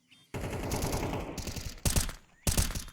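Gunfire in a Counter-Strike match: a sustained rattle of automatic weapon fire followed by two sharp, loud bursts of shots, close and dense.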